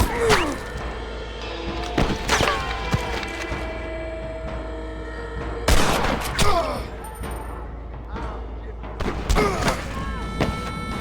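Sharp gunshots from the Red Dead Redemption video game, a few loud cracks spaced several seconds apart over a steady background hum, with voices speaking between the shots.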